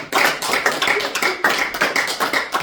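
A church congregation claps in a dense, bright burst of applause that holds steady throughout, close and loud.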